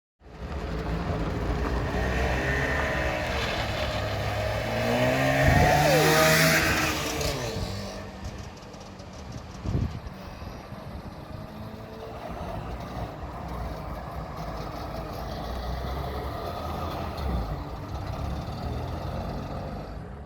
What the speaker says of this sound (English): It has basically a lawnmower engine in it